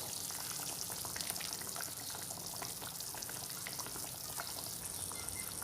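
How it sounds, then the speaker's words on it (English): Chicken stock poured into a pan of macaroni masala sets off a steady, even sizzling hiss with watery bubbling that holds close and constant throughout, with no talking. "now I'm going to add chicken stock"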